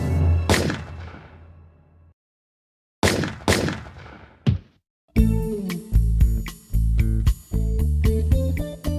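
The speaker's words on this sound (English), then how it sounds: "Suddenly there were loud explosions." Several sharp, loud bangs ring out with short silences between them, followed by a rapid series of heavy, booming blasts.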